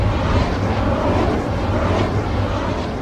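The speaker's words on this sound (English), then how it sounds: "This is the sound of the wind turbine in Bluff Springs" A wind turbine in Bluff Springs runs with a steady, broad low rumble and whooshing hum that holds constant throughout without any breaks.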